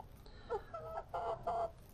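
Backyard chickens kept in a city yard cluck in short bursts, three or four soft, close calls spaced across a quiet background.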